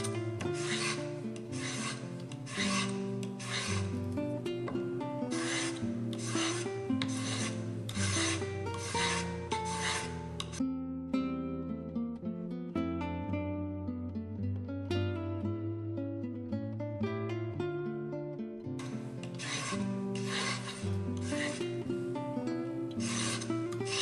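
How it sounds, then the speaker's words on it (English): A chip carving knife is rubbed back and forth across abrasive sharpening strips in rhythmic rasping strokes, close and clear. Bursts of repeated filing pass in groups with a short quieter stretch in the middle, and there is no speech. "I've moved it across a strip on each of the abrasives."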